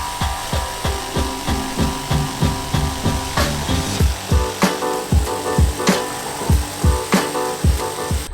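A big plywood board being sawn by hand, close and loud, in quick regular back-and-forth strokes that carry on steadily throughout.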